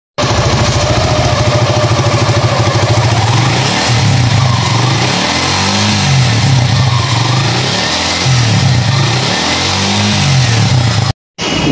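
A Suzuki Gixxer SF motorcycle engine runs loud and close, idling with a steady throb and rising in several short throttle blips that swell and drop back repeatedly.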